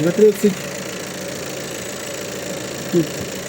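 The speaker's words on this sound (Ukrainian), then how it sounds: "Двигун працює ідеально рівно, без ніяких нюансів." Diesel engine of a VW Touran 2.0 TDI with 150 hp idling, a steady even low rumble throughout, heard beneath someone speaking nearby.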